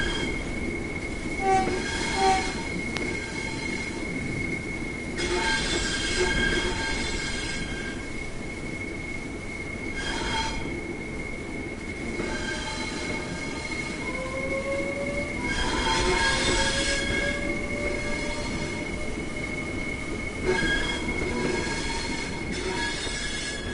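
Train running in Train Sim World 3 on a route crossing to Rochester: steady rumble of a moving train throughout, with sustained wheel squeal tones and brief horn-like blasts recurring every few seconds, fairly loud and continuous.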